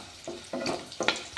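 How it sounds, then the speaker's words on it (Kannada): Cumin, green chillies, red chillies and black pepper fry in hot oil for a coriander puliyogare masala, giving short bursts of sizzling and stirring that rise and fade several times, close and moderately loud. "ಆಮೇಲೆ ಸ್ವಲ್ಪ ಜೀರಿಗೆ, ಹಸಿಮೆಣಸಿಕಾಯಿ ಹಾಕಿ ಫ್ರೈ ಮಾಡ್ಲಾತೀನಿ"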